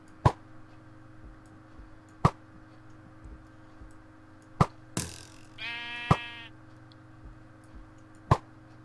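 A Minecraft sheep gives a single wavering bleat at middle distance. Sharp, evenly spaced game clicks and a low steady hum run underneath it.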